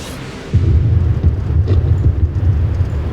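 A voice imitates a distant, muffled explosion for a Star Wars drone recreation, a low rumbling bump rather than a roar, starting suddenly and holding as a heavy, dull low-frequency swell.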